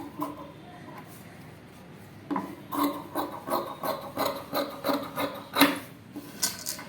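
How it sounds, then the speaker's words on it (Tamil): Scissors cutting through cloth for a chudidar pant, a series of close, rhythmic rasping snips repeating about twice a second after a quieter start, with a soft voice faintly underneath. "இப்போ இது பாக்ஸ் மாதிரி அப்படியே கட் பண்ணி எடுத்துக்க வேண்டியதுதான்"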